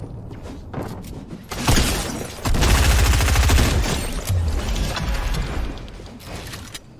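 Gunfire in the video game Fortnite while shooting an opponent: rapid bursts of automatic shots with heavy low thumps and crackling impacts, loud and close, with a brief quieter stretch before a long sustained volley.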